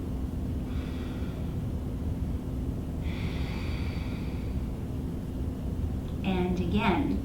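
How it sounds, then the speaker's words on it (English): Two slow, hissy inhalations through the nose, each lasting about a second, close and fairly soft over a steady background hum, followed by a brief burst of speech at the end. "Let's try breathing in only through your nose."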